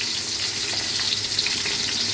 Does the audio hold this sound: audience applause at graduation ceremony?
no